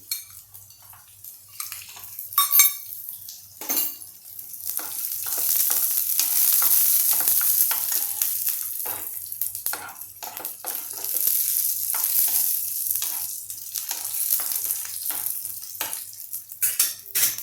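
Garlic sizzles in a hot pan for tomato thecha, a steady crackling fry broken by repeated scrapes and knocks of a utensil stirring against the metal, with no talking.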